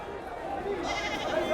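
Goats bleat amid the crowd at a livestock market in Oman, where animals are shown in a circular arena; the calls come through a steady hum of chatter and voices.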